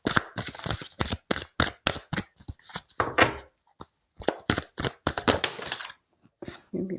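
Oracle cards are handled and flipped on a table, giving a quick run of close, crisp slaps and papery shuffles with brief gaps between.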